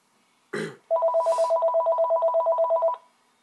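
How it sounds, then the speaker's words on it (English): A brief burst of noise comes first, then a home landline phone gives a steady electronic warbling ring for about two seconds before cutting off to quiet. "House phone ringing."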